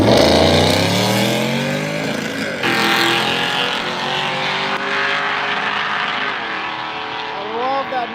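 Drag race car at a racing event whose engine bounces off the rev limiter a couple of times, a loud, raw engine note with rising harmonics that holds steady before cutting and surging again.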